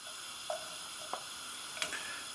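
Chopped onions and peppers sizzle softly in a pan, a steady frying hiss with a few faint clicks and taps of stirring, with no talking.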